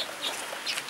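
Birds in an outdoor aviary in the rain give short, scattered chirps and squawks over a steady wash of falling rain.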